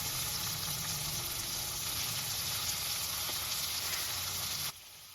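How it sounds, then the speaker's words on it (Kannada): Steady loud sizzle of masala with chopped tomatoes sautéing in a pan for Bangalore-style masala puri, continuous frying hiss that cuts off abruptly near the end, no talking. "ಅದನ್ನು 1-2 ನಿಮಿಷ ಚೆನ್ನಾಗಿ ಬಾಡಿಸ್ಕೋಬೇಕು."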